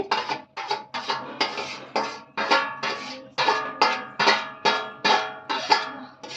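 Vermicelli is stirred into boiled milk in a metal pot for a Bhogi festival dish, giving about a dozen rhythmic, fairly loud scraping and clinking strokes with short pauses between them and no talking.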